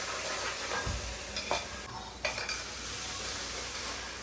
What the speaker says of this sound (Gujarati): ખડા મસાલા વઘાર કરી રહ્યા છે.